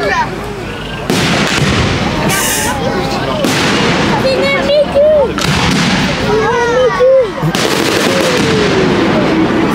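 Firecrackers burst in loud, rapid crackling volleys during an outdoor water and fire sound-and-light show, with whistling rockets rising between the bangs and a crowd talking underneath.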